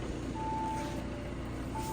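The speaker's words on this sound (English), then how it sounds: "So much beeping at me because the car's running." Steady electronic warning beeps chime inside an Audi Q5 2.0 TDI S tronic quattro over a low idling diesel engine hum, a sustained tone repeating after a pause.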